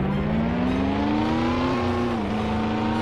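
Car engine revving in the Roblox game Driving Empire, played with a G27 steering wheel: a steady throaty engine drone with slowly shifting pitch, close and continuous for about three seconds with no talk.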